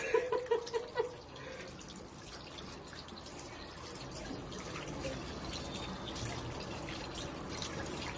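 Faint running tap water with soft splashing as a face is washed by hand, steady throughout after a brief tonal sound at the start.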